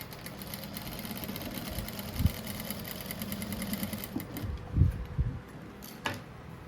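A sewing machine stitches strips of fabric into a striped rug, running with a steady mechanical whir under the constant hum of a nearby electric fan, with a few soft knocks and handling sounds and no speech.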